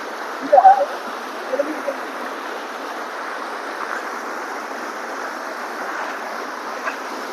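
Steady rushing of stream water at a hidden waterfall in Telangana, a broad continuous wash heard up close, with a few brief louder splashes or handling bumps near the start.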